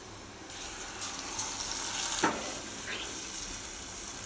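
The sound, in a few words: small fish frying in oil with onions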